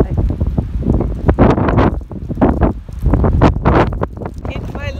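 Strong gusting wind in Iceland buffets the microphone in loud, surging bursts, with people talking over and between the gusts.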